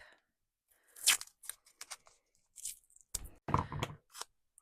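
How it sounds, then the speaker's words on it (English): Surgical tape tearing off a roll during a paper craft project, several short crisp ripping bursts with pauses in between, close and fairly quiet, with no talking. "And now I'm going to grab some surgical tape."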